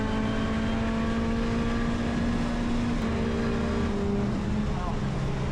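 Race cars lapping Brands Hatch on a trackday, among them a BMW, a Mini and a Porsche, give a continuous close engine drone whose pitch climbs and shifts as the cars accelerate.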